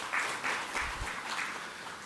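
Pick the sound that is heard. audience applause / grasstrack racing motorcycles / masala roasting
audience applause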